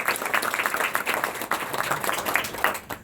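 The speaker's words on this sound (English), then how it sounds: "Yes, I think that definitely deserves a round of applause." A small outdoor crowd at a Cherokee tribes' council at Red Clay gives a short round of uneven hand clapping, individual claps audible in a brief burst.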